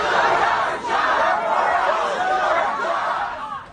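Dense, loud crowd noise at a heated congressional town hall, voices yelling and clamoring together in a steady uproar with no pause, a few laughs and cries rising out of the mass.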